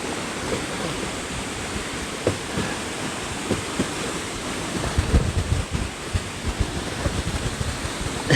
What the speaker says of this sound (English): See the wind blow, it will not allow us to go inside.